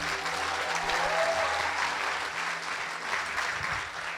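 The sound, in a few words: church congregation applauding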